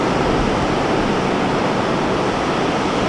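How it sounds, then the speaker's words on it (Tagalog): Sea waves surge against eroded rocks at Sabangan Beach in Agno, Pangasinan, near the umbrella rocks. They make a continuous, even roar of rushing water with no pauses. "Paloob yung alon dito, umampas."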